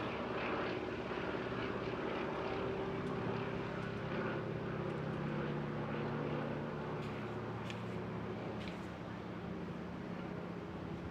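Fairey Swordfish biplane with a propeller engine at the Bournemouth Air Festival, giving a steady, droning aircraft roar that holds at an even level throughout.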